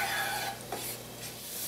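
Garlic and cayenne sauté in olive oil in a pan, giving a soft, steady sizzle with a faint scrape of stirring, quiet and close.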